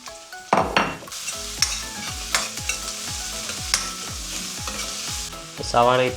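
Sliced onions tumble into hot oil with frying ginger and garlic, bringing a lively sizzle and a series of stirring scrapes, plus a couple of sharper clanks at the start and end, close up with no voices.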